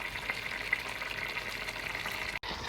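Merguez sausages and lamb sizzle in a cooking pot for couscous, a steady, fairly loud frying hiss that continues with no talking.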